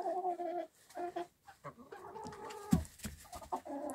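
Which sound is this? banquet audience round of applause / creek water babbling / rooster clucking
rooster clucking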